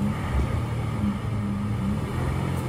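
A RAM 2500 pickup truck's engine working hard in a deep Florida mud hole: a steady, loud, low rumbling drone with no clear pauses, heard close up.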